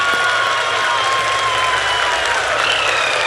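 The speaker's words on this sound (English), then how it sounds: "People are applauding." People in a control room applaud the Chandrayaan-3 lunar landing with loud, sustained clapping and crowd noise that keeps a dense, even texture throughout.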